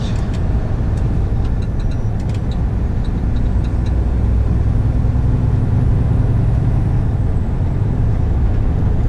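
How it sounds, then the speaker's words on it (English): A Scania G480 truck pulling a long trailer on a highway, a steady loud drone of engine and road noise filling the whole stretch, with a few faint ticking clicks near the start. "it's definitely worth it when driving in this powerful truck"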